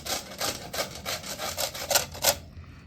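Green rind of a gandhoraj lime being grated, with about eight steady, rhythmic rasping strokes over two seconds, close and fairly quiet, then stopping.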